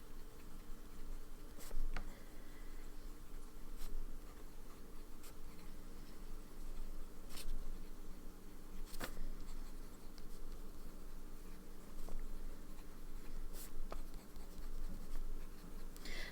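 A Lamy fountain pen with a medium nib scratches quietly across paper, giving faint intermittent ticks and strokes over a soft, steady background hush.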